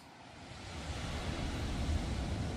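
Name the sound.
ocean waves on the shore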